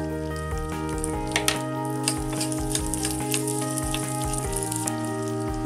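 Urad dal and coriander seeds frying in a spoonful of hot oil for sambar masala, a continuous crackling sizzle with sharp pops, close and fairly loud, under a steady musical tone.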